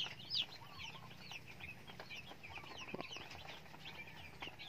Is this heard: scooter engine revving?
no